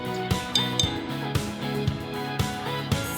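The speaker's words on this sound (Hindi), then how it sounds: "क्रीम और कंडेंस मिल्क को मिक्स कर रहे हैं" Cream and condensed milk being mixed in a bowl give a steady rhythmic series of light clinks from utensil against dish, about two per second, over a continuous musical background.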